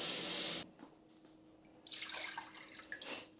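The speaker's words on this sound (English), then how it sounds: "So we're going to start with 1 cup of water" Water poured from a tap into a saucepan, a short splashing burst after a loud rush at the start, close and moderately quiet.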